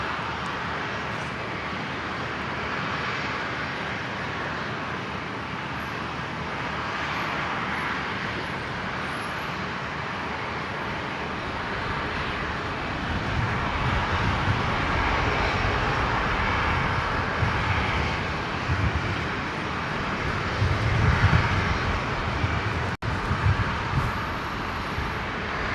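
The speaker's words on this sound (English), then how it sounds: "73 here, just pushed back. Shortly about to begin its taxi, just finishing some flight control, flight surface checks" A jet airliner at Brisbane Airport, just pushed back and running flight control surface checks before taxiing, gives off a steady broadband engine roar that holds for the whole stretch and swells slightly near the end.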